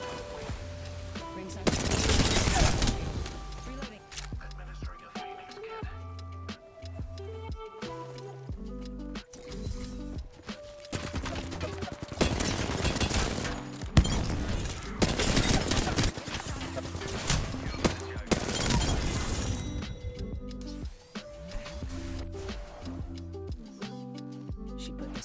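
Weapons fire in Apex Legends comes in dense, loud bursts of rapid automatic shots, nearly continuous for the whole stretch and layered with game effects.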